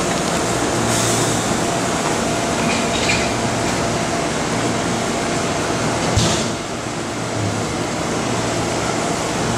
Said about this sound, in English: Most trains don't stop here in Newark, but there are a few that do.